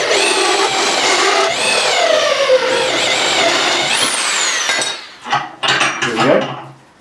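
A knockout punch grinds and screeches as it cuts through curved 2mm thick aluminium heat shield, a loud sustained metallic squeal that breaks into sharp clanks and scrapes toward the end.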